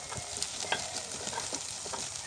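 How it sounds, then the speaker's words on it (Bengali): Chicken curry masala with Kashmiri chili powder sautéed in oil, a steady sizzle with scraping stirs at an irregular pace, close and moderately loud. "ভালো করে কষিয়ে নেব তেল ছাড়া অবধি"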